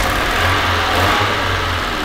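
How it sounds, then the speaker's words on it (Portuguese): A cheap used car's engine runs slightly rough and misfiring, a loud close steady drone with a low hum and a brief dip partway through. "tá bem experimentado o barulho do motor aqui. Tá meio falhadinho"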